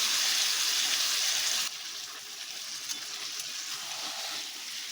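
Marinated meat frying in a hot pan, a dense, loud, steady hiss that drops slightly in level partway through and then sizzles on evenly, with no voices.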